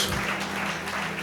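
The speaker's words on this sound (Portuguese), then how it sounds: "dá uma salva de palmas para Jesus" Church congregation applauding during a worship service, a dense, steady wash of clapping from many hands that holds at an even level for the whole short stretch.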